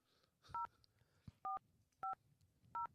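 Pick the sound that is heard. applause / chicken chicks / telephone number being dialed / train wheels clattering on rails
telephone number being dialed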